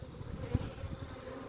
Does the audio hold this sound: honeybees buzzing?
yes